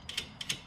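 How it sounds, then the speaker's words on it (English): A ratchet tightens a big washer and nut on a rear axle in two quick pairs of sharp clicks, close and fairly loud, with no talking. "And then you just want to tighten down this big washer and nut."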